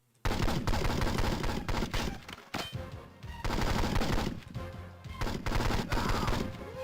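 Sustained automatic gunfire in James Bond 007: Nightfire, loud, dense machine-gun bursts that run almost continuously, broken by a couple of brief pauses.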